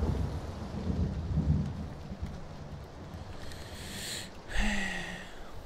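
Heavy rain pours steadily while low thunder rumbles through it, then a sharper, louder thunderclap breaks in toward the end, with no one talking.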